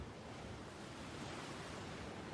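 Ocean waves wash steadily in a Doraemon cartoon scene at sea near a pirate ship, a continuous broad hiss and rumble of surf with no talking.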